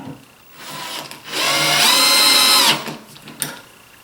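A power drill drives screws into a wooden screen door frame: a short whir, then a longer, louder, rising spin that cuts off sharply, followed by a small knock.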